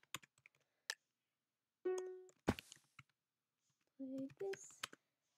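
Typing on a computer keyboard during a Minecraft Bridge match on Hypixel, a few scattered quiet key clicks heard between short bursts of game sounds, with a brief spoken phrase.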